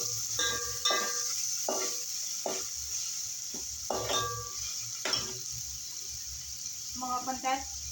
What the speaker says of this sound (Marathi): कांदा चांगला भाजलेला आहे. त्यात टोमॅटो ॲड करूया. हे चांगलं मिक्स करून घेऊया.